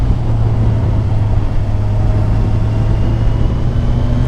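A 2018 Kawasaki Ninja 1000 (Z1000SX) motorcycle is ridden at a steady pace, its engine a loud constant droning hum mixed with wind and road rush, without any spoken voice.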